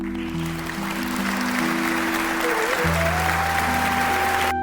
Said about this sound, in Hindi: पूरा गांव तालियों से गूंज उठा।